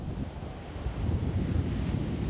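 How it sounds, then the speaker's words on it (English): Atlantic Ocean surf rolls and crashes continuously at a beach in Mamba Point, Monrovia, while gusty wind buffets the microphone, a loud, steady roar with no voices. "The Atlantic Ocean provides a perfect backdrop on a windy day in Monrovia's Mamba Point."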